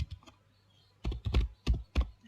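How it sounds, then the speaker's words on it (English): A few quick keystrokes on a keyboard, a faint cluster followed by several firmer taps in two short bursts, close and alone, while typing a word into Python code. "I write here Python."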